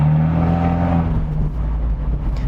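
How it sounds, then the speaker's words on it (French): Abarth 124 Spider exhaust in sport mode, a close, steady low engine rumble with a brief rising rev that settles back to a throaty idle, no talk. "Donc là ça libère encore plus l'échappement qu'il ne l'est déjà"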